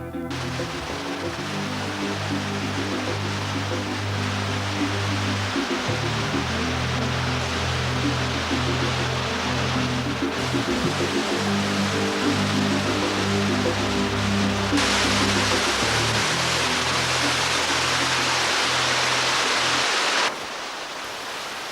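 Underground waterfall in a northern cave network, a loud, steady roar of falling water that fills the whole space without pause, with low rumbling tones beneath and a sudden brightening of the hiss partway through.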